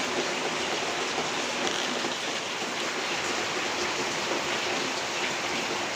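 Steady rain pours onto a kitchen roof with constant dense hiss and patter, unbroken and fairly loud throughout, with no voices.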